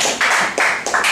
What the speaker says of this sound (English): Everyone give a quick round of applause to Mr.